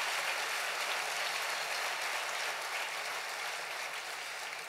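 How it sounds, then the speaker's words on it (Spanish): Faint, distant applause from a church congregation at a worship service, a steady even patter of clapping that tapers slightly toward the end. "Dale un aplauso al Rey bendito"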